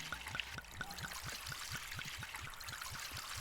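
Petrol pours from a can into a generator in the survival horror game Darkwood, a steady trickling stream with regular glugging pulses, fairly quiet and uninterrupted.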